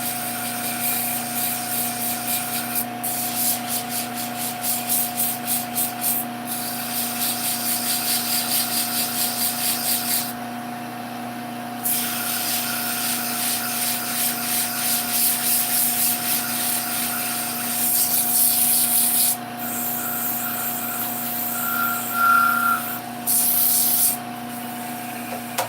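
Wooden spinning top being sanded, a steady scratchy rubbing that comes in long bursts with short pauses between, over a constant low hum.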